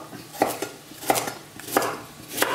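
Carrots being cut into large chunks for a simple curry carrot soup: a handful of sharp knife strikes land on a board at an even, unhurried pace, close up and with no talking.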